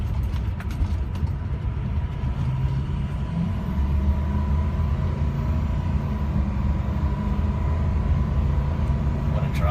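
A 2006 Ford F350 pickup truck's engine runs steadily up close, giving off a continuous deep rumble with no change in pace for the whole stretch and no one talking.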